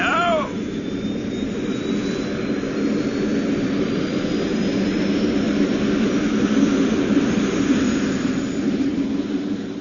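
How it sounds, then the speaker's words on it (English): A personal rocket vehicle's engine fires and takes off, a loud, steady jet-like roar with a thin rising whine that holds for the full length of this old science-fiction radio drama effect. "You want to give the personal rocket vehicle a trial run?"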